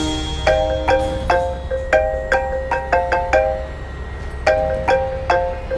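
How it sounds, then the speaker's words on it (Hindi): A mobile phone ringtone announcing an incoming call plays a repeating melodic pattern of bright electronic chimes in short bursts, fairly close and clear, with no talking over it. "ये तो आपके नंबर से फोन आ रहा है"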